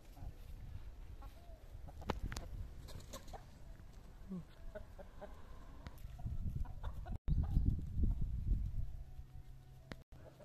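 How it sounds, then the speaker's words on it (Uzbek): Several Brahma roosters and hens cluck and murmur nearby in a steady, busy chorus, with occasional louder calls and some background rustling. "mana birama tovuq xo'rozlar"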